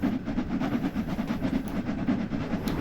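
A steam locomotive running with its regulator fully open in the Spirit of Steam train simulator, on a London Euston to Liverpool Lime Street express, giving a steady rhythmic chuffing and rail clatter at constant loudness with no talk.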